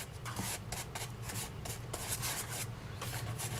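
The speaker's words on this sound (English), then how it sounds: "just brush the flakes, the excess flakes" Soft brush sweeping loose gilding leaf flakes over a taped surface, a run of quick light rubbing strokes, close and quiet.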